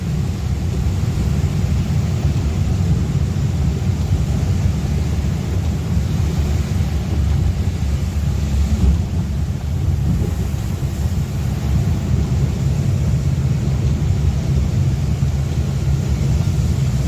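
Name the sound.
heavy rain with thunder on road trip in Kerala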